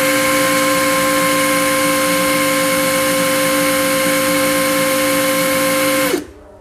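A Power Action BID20 cordless hammer drill running at its first speed setting, a loud steady high whine with a constant motor tone that holds for about six seconds, then cuts off and spins down.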